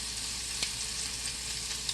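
Pork chops sizzle in hot oil in a frying pan, a steady close crackle with brief spitting pops, no talking.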